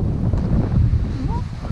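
Strong wind rumbles steadily against the microphone at Uglovaya Bay, a low continuous roar with gusts rising and falling, heard outdoors with no clear talk over it.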